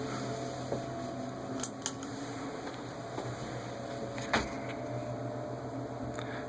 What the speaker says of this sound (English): This kitchenette has this Sears Emerson spinner fan.